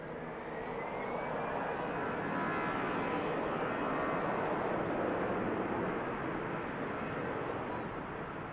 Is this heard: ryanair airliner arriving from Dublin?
yes